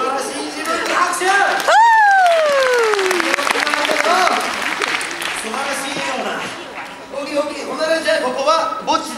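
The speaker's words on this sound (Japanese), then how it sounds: "素晴らしい自分に拍手" Live audience at a Universal Monsters rock and roll stage show in Shinjuku claps and cheers loudly throughout, with a rising whistle-like sweep early on and shouting voices mixed into the sustained applause.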